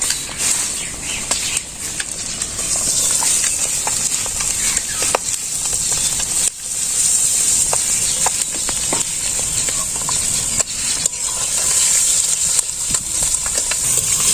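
Drumstick (moringa) leaf greens fry in a pan in a village kitchen, giving a steady close sizzle with light scraping and clicking from stirring throughout.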